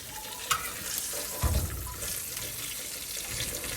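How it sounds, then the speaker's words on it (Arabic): Fish fries in a pan for masmouta. A soft, steady sizzle runs throughout, broken by a few brief clatters of stirring and handling, with no voices. "هسه نزلنا السمك نجي نقلي الوجبة الثانية"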